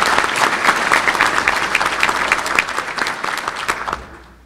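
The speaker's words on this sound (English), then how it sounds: "give them a round of applause" Audience applause for guests at a 2015 State of the City address, a dense steady wash of many hands clapping that holds strong, then thins and fades out near the end.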